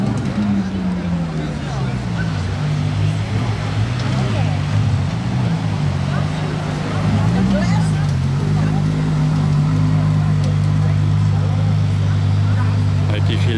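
A Ferrari LaFerrari pulling out and driving off, its engine a steady low drone with a shifting pitch that rises and falls, heard close and loud against background noise, with people talking over it.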